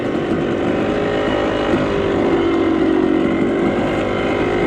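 A 250 dirt bike climbs a hill near creeks, its engine a loud, steady, buzzing drone with slight pitch rises as it pulls up the slope under load.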